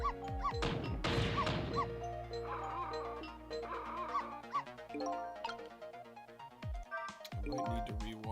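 Bright, cartoonish dog barks and yips from the Ghost Trick: Phantom Detective video game, short repeated calls scattered over a melodic music score.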